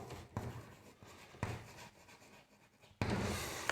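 A teacher chalks on a classroom board during an English grammar lesson on the future indefinite tense, giving short scratchy writing strokes in bursts, with a louder run of strokes near the end.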